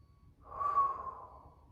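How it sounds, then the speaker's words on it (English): A single slow, breathy exhale rises and fades during a seated chair yoga stretch, soft and close with no talk over it. "Another nice big breath in. Slow breath out."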